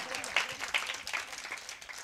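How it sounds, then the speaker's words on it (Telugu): A church congregation claps during a sermon, giving a moderate, uneven patter of many hands at a middle distance, with faint murmuring voices underneath. "కొట్టండి చప్పట్లు గట్టిగా, ఇంకా గట్టిగా"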